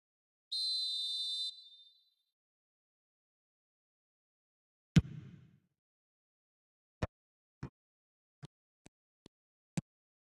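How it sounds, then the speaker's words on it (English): A single short, shrill referee whistle blast for offside in the football video game eFootball 2026 sounds alone, followed after a pause by a dull thud and a series of sharp, isolated clicks or taps. "the whistle's gone, presumably for offside"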